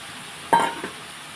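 Tomato pieces drop into a pan of omelette curry with curry leaves, giving one short soft thud and brief sizzle-stir at mid-clip, followed by a fainter second stir, with no talking.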